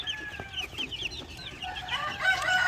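White leghorn chickens cluck in short, rapid bursts nearby, several birds overlapping, growing busier and louder toward the end.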